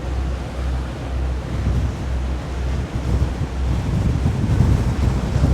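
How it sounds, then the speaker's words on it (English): Strong wind buffets the microphone in a steady roar on a coastal walk in Lanzarote, with rushing water and surf noise underneath; no voices. "Windy."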